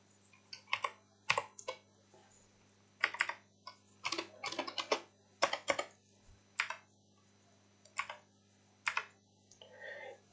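Someone types PHP code on a computer keyboard, the keys clattering in irregular bursts of quick clicks with short pauses between runs, close and clear over a faint steady background hum.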